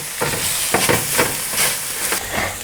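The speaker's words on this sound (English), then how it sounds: "And then we're just going to fry this off quickly." Ginger, garlic and a tablespoon of spice mix frying in a pan for a lamb shank curry, with a loud, steady sizzle and hiss and a few scraping stirs, close up.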